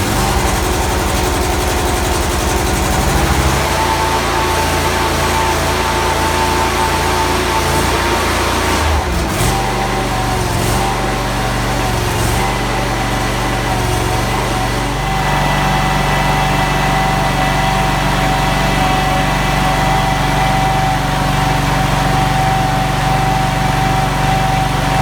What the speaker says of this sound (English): I still have it on the axle stand, so I'm about just to start it up and run the tracks just in the air